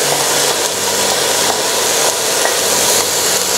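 Chopped green spinach tumbling into a hot pan for soup and being stirred, with a steady sizzling hiss and soft scraping of the spoon, loud and close with no talking.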